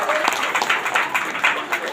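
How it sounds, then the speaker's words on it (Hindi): Church congregation clapping loudly in thanks to God during a prayer and healing service in Mahpur Kaithaliya, a steady dense wash of applause with voices mixed in. "परमेश्वर को जोरदार तालियों के साथ धन्यवाद देती है"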